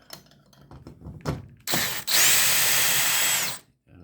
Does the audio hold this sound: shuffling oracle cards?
no